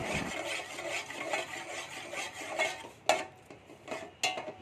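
Semolina and milk are stirred in a pan, a soft continuous scraping with a few louder clinks of the spoon against the metal.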